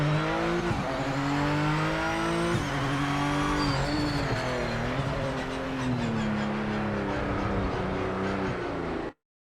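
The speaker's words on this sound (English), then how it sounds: "we'll focus on the internal cockpit sound for now" Race car engine heard from inside the cockpit in the Project Motor Racing video game, a loud, steady high-revving drone with pitch rising and dropping through gear changes, alone and continuous until it cuts off at the end.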